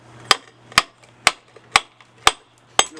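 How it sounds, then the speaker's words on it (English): A hammer strikes a chisel chipping out old mortar from antique tile, six sharp metallic blows falling at an even, roughly half-second pace, loud and close with a faint hum between them. "Just simple chisel and a hammer."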